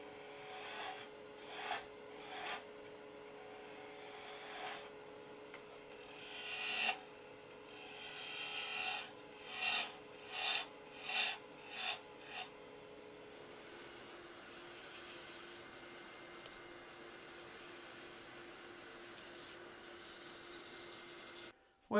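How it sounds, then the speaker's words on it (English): Wood turning on a lathe with a spindle roughing gouge while making a wig stand: a run of rhythmic, raspy cutting strokes that grow louder and quicken mid-way, then give way to a steady, quieter spinning whir. "switch back to spindle roughing gouge because it'll remove a lot of wood"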